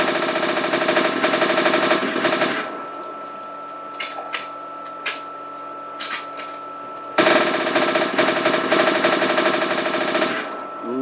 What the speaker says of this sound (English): next up is the Dual Uzi